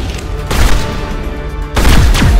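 Assault rifle bursts in the video game Mass Effect: Legendary Edition, two loud rapid volleys of gunfire separated by a short pause with background game noise.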